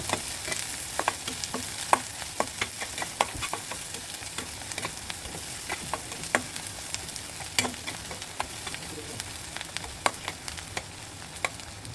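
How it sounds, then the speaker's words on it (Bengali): Chopped onions and whole garlic cloves softening in oil in a pan, a steady close sizzle dotted with sharp pops and stirring scrapes, continuous and with no voices. "পেঁয়াজটা ব্রাউন কালার করবো না, হালকা করে নরম করে ভেজে নিব।"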